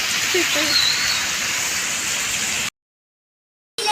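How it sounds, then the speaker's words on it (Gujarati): Steady, dense heavy rain in Rajkot hissing loudly without pause, then cutting to silence for about a second before resuming. "જોવો આ ધોધમાર વરસાદ ચાલુ થઈ ગયો છે"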